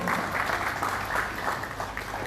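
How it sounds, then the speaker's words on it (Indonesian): An audience claps at the opening ceremony of a national Qur'an recitation week held in a pendopo hall, a brief steady patter of many hands at moderate volume. "tepuk tangan."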